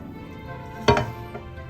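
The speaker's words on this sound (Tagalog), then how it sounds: "Give it a little bit stir." Mushrooms sizzling in a pan get a quick stir, one clattering scrape and a fainter second scrape over a steady close fry.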